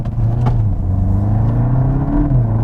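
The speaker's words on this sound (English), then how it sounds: "you do change gear when you've got some lock applied" VW Mk8 Golf GTI with a DSG gearbox changing gear while cornering, a loud close engine drone whose pitch dips and steps with each shift under steady road rumble.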